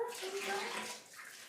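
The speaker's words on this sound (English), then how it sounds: "Bit of hot water." Hot water runs steadily from a tap, a soft, continuous splashing heard close up during a basement renovation.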